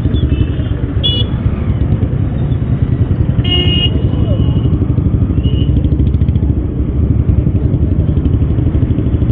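Royal Enfield Bullet 350cc motorcycle riding on a road, a steady loud thumping engine drone throughout with a brief horn toot, while a rider talks over it.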